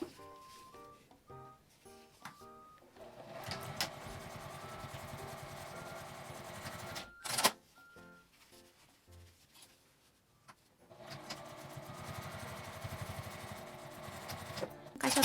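A sewing machine stitches a small fabric-scrap box pouch with a 12 cm zipper, running in two sustained whirring passes separated by quiet handling and a sharp clunk.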